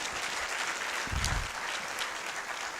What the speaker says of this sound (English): If you agree, clap for this.